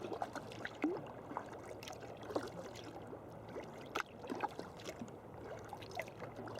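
Kayak paddle strokes dip and swish through a sea current between Cemlyn and the Skerries, a steady, fairly faint wash of moving water with soft splashes and trickles throughout.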